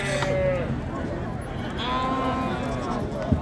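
Sheep bleat at the Ganja sheep market, several calls rising over a constant crowd and talk and the shuffle of animals nearby.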